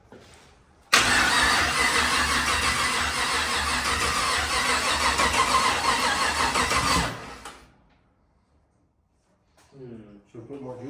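A 1939 chopped Chevy hot rod's 6.2 V8 cranks and fires up, roaring loudly and steadily for about six seconds before cutting off, followed by quiet and brief voices.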